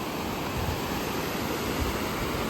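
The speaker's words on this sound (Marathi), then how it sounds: "आवाज कसला खतरनाक येते पाणी पडताना" Water tumbling over a drop on a river, a steady, dense roar of falling water close by, loud and unbroken throughout with no voices over it.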